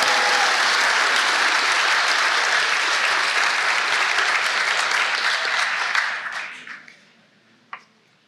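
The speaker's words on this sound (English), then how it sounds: "if we could give another round of applause for our 5 National Order of Scribes Award winners" Audience at a law school honors and awards ceremony giving a sustained round of applause for award winners, loud and dense for about six seconds before tapering off into scattered claps and a final lone clap.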